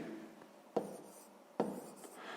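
Pen writing numbers on paper during a sixth-grade math exercise, soft close scratching strokes with two sharper taps as the pen lands, otherwise quiet.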